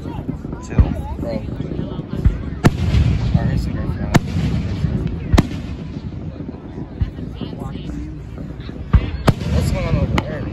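Fourth of July fireworks launching and bursting, with about seven sharp, loud bangs scattered irregularly over a steady outdoor rumble and murmuring voices.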